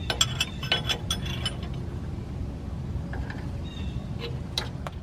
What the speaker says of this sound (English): That's a 3/4 inch wrench I'm using there.